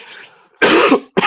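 A single harsh cough bursts out after a faint breath, followed by the start of a second one, close to the listener.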